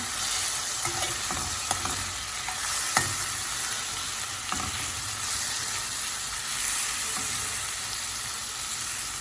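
Potatoes frying in plenty of oil in a non-stick pan, a dense, steady sizzle with scattered scrapes and taps from a frying ladle stirring them, close and continuous with no talking.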